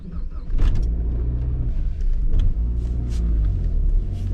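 A 200,000-mile Saab 9-5 Aero starts cold early in the morning and settles into a steady, deep idle rumble close by, with a few faint clicks and rattles over the engine note.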